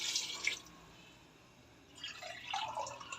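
Water is poured into a cooking pot holding chicken, onion and green chilies for shami kabab, giving faint trickling and splashing in two short bursts separated by a quiet pause.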